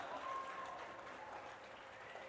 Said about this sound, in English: Give yourselves a big round of applause for coming